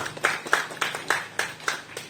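A small group claps in a steady rhythm of about eight sharp, evenly spaced beats, close and fairly loud, with no voices over it.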